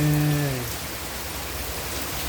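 Heavy rain pours down in a steady, dense hiss that fills the scene, with a fading hum at the very start and no voices.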